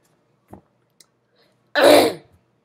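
One harsh, loud cough bursts out close to the microphone in an otherwise quiet room, preceded by a couple of tiny clicks.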